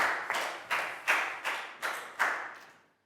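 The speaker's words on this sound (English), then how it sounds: "High five and a big round of applause for Pak Bung." A small Year 4 class claps for a student during a health lesson, six or seven separate bursts of clapping in an uneven rhythm, near and moderately loud, fading out at the end.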